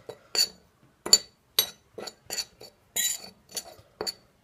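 A spoon scrapes and clinks against a bowl while stirring a homemade black face mask mixture, in a series of short, regular strokes, close by and fairly quiet.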